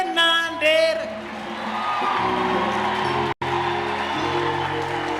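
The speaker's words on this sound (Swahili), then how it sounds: "Shangwe na ndere." A Kenyan church congregation cheers and ululates, with high wavering trills at the start followed by a sustained swell of crowd noise, low instrumental tones and a brief dropout partway through.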